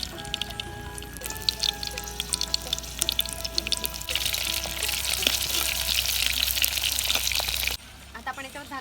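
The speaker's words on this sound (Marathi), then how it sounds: "आता आपण ही कारली याच्यामध्ये सोडूया।" Stuffed bitter gourds (karela) dropped into about two spoons of hot oil in a pan, a steady crackling sizzle that swells loudly midway and then cuts down sharply near the end, close up, with talking over it.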